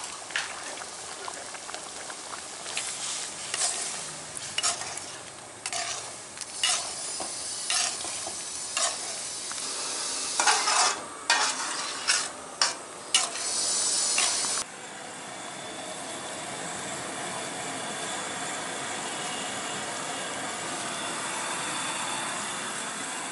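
Village-style fish curry with coconut bubbles and hisses in a pot, with sharp stirring clatters through the first half, then a steady, even simmering hiss to the end.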